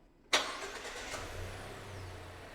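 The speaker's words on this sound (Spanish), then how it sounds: "si nosotros arrancásemos el coche, ¿este voltaje que estamos viendo en pantalla de 5 voltios cambiaría algo?" A car engine cranks and catches after a brief quiet moment with a sharp start, then settles into a steady low idle that continues to the end.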